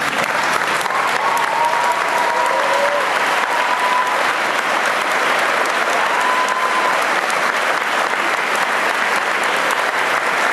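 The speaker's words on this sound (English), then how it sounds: "give another thundering round of applause" Sustained, dense applause from a large crowd at a high school graduation, steady and loud throughout, with faint whistles rising above the clapping.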